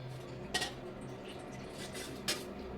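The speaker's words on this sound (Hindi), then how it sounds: "और अभी जो बच्चे नाश्ता वगैरह करके गए थे ना, उसके बर्तन रखे हुए हैं" Breakfast dishes and utensils left by children clatter in a home kitchen as they are gathered for washing, with two distinct clinks over a steady background of handling.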